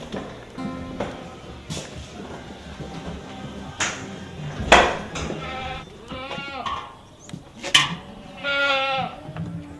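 Baby goats on a goat dairy farm bleating repeatedly, several wavering calls rising over a busy barn background with tapping and rustling, fairly close.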